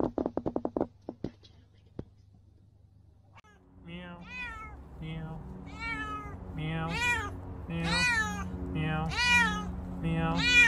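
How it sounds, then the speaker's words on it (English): A cat meows repeatedly, the calls growing louder and more insistent, after some sharp knocks and a short quiet stretch, and whispered voices are heard along with the calls. "Meow."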